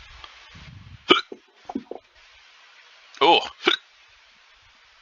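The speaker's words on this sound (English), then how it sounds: "Hiccups." Hiccups burst out during a tabletop game session, several abrupt, close, separate hiccups spread over a few seconds, with a little talk between them.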